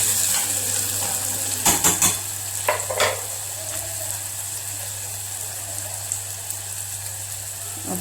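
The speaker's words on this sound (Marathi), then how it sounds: "आता टोमॅटो टाकला, टोमॅटो परतवून घेऊया।" Chopped tomato sautés in a hot pan for a mixed vegetable dish, a steady low sizzle with a few spoon-stirring scrapes and clinks early on, then quieter frying.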